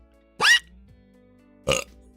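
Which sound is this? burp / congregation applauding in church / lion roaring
burp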